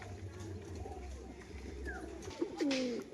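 Crested white-laced Shakdoma pigeons, kept for sale, give a short, close coo near the end over a low, steady background hum.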